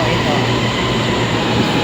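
Sentul Timur LRT station in Kuala Lumpur: a loud, steady broadband roar of train and ventilation noise fills the space, with voices mixed into the din.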